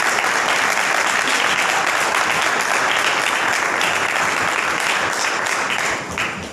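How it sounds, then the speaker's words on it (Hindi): A church congregation claps hands in praise, a dense, loud, continuous wash of applause lasting several seconds before easing slightly near the end. "अगर दम है आपके हाथों में तो एक बार और प्रभु के नाम की महिमा ताली बजाकर करेंगे"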